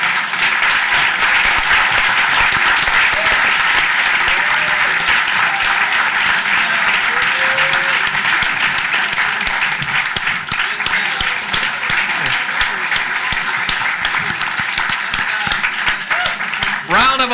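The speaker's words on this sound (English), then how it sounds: "Round of applause again for the speakers, the panelists, and the law students" Sustained audience applause for speakers, panelists and law students at a panel event on corporate money and politics, loud and continuous from a large room, with a few voices faintly mixed in.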